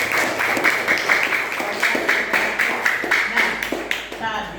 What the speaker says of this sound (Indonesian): Tepuk tangan buat Aira.